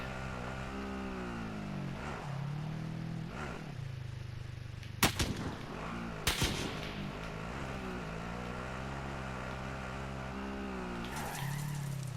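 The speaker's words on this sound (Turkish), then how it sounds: "Evet oradan bir silah sesi geldi." Two sharp, loud gunshot bursts ring out over a droning engine hum and shifting mechanical tones in Call of Duty: Warzone.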